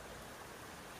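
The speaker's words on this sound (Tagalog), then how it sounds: "ito yung ilog na tinatawag nila" A river runs past a hidden spring in Cavite with a steady, dense rush of flowing water, broadband and unbroken throughout.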